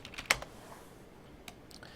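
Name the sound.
typing on a computer keyboard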